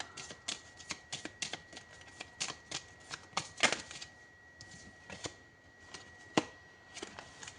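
Tarot cards, only the major arcana, shuffled by hand in a quiet room, a quick run of crisp riffling slaps and flicks in irregular bursts, close and clear with no talking.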